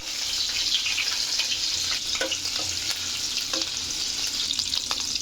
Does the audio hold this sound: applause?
no